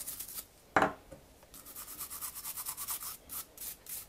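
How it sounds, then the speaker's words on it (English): Ruger 10/22 rifle parts being rubbed clean of powder residue with a cloth: one sharp knock near the start, then a run of soft, quiet, rhythmic rubbing strokes up close. "And then you just basically give it a little rub off."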